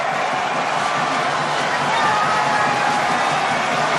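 A rugby stadium crowd at a European Champions Cup quarter-final between Racing 92 and Toulon roars after an interception, a dense, steady wall of cheering that fills the whole stretch without pause.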